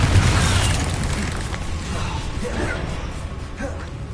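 Explosive blast from the Confringo spell in the Hogwarts Legacy game, a loud booming burst at the start that decays into a dense, rumbling roar across the rest of the moment, with no voices.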